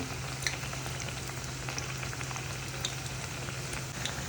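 Sliced onions frying in hot oil for crispy snack preparation, a steady soft sizzle and crackle with scattered bright pops, continuous and close, no voices.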